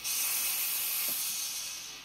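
A steam iron in a home sewing session sends out a steady, close hissing burst of steam that fills the whole moment and fades slightly at the end, with no talking over it.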